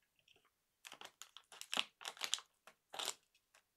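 Scissors snip and crunch through plastic packaging before a bottle of Prime X drink is opened, giving a series of short, sharp crinkling cuts, fairly close and moderately loud, with no voices.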